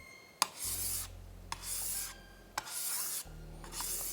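A straight razor is pushed across a sharpening plate in a slurry, making three long, even rasping strokes, each starting with a light click, close and alone with no talking.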